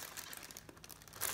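Plastic bag crinkling as shower gel is poured into it: close, continuous rustling and crackling with a louder burst of crinkles at the end, and no talk.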